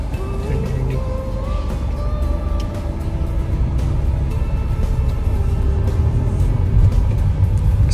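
Inside a 2021 Hyundai Verna 1.5 manual driving through Panchkula, a steady low engine and road rumble fills the cabin and swells slightly as the car picks up speed.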